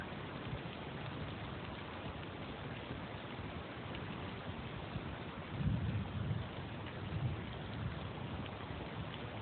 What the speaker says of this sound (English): The rains are generous now.